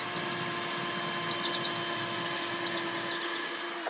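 A power drill bores into a wall for wall plugs without a pilot hole, giving a steady, loud whining drone that holds for about four seconds and then cuts off abruptly.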